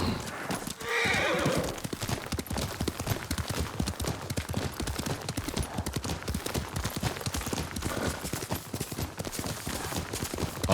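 Rapid clip-clopping hooves pound steadily throughout in the Ghost of Tsushima video game, with a horse's whinny rising near the start.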